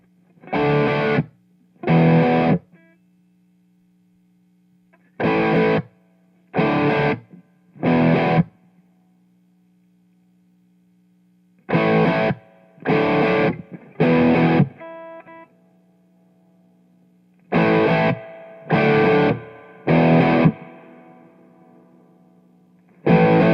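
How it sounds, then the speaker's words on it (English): Distorted electric guitar through an Orange amp plays short chord bursts in groups, each ringing out with a reverb tail as the reverb is turned up, with a faint amp hum between them. "cycle through the reverb so that you can see just how much reverb you can get out of this amp"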